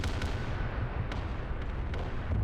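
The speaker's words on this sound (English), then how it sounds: "And we hear heavy cannons firing." Heavy cannons and artillery fire in the Arma video game, a few sharp distant thumps breaking through a low, continuous rumbling background.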